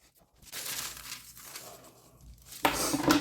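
A cardboard box seam is cut open: a short, close crinkling and tearing that builds, pauses, then ends in a louder ripping burst.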